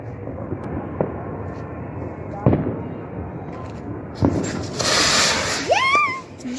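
A Diwali firework lit with a match bursts with a sharp report, followed by a loud crackling fizz and rising whistling streaks; several earlier pops sound beforehand, all under a steady outdoor background.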